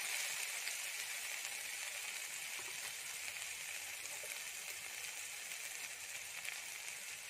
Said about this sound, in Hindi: टमाटर को भी कुछ देर फ्राई करने के बाद इसमें अब डालेंगे सूखे मसाले।